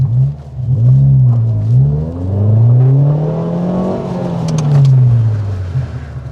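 A car in a stunt driving lesson, its engine revving up and down in long swells, rising and falling pitch, close and loud throughout with no talking.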